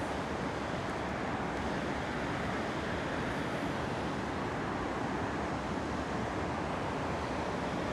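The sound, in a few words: river by the shore in the morning breeze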